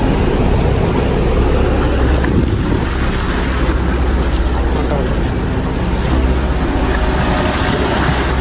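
Sea waves surging against the rocks at Galle Fort in Sri Lanka, a loud, continuous roar of surf mixed with heavy wind buffeting the microphone.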